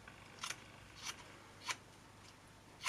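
Scissors snipping fabric while making a shabby-style bag or pocket: four short, crisp cuts spaced roughly half a second apart, quiet and close, with no talk.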